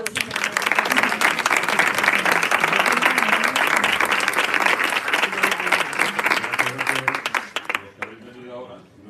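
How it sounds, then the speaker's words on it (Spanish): Sustained applause from an audience at an Immunotec event in Seville, dense clapping filling the room for about eight seconds before tapering off, with some voices mixed in. "Así que un súper aplauso."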